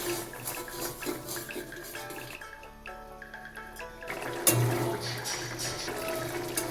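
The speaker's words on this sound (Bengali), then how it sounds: "গ্রেভি যেমন রাখবো সেই অনুযায়ী জল দিয়ে দিলাম।" Water poured from a tap into a prawn and potato curry gravy in a home kitchen, a steady close splashing and running flow that continues throughout, with a brief louder splash partway.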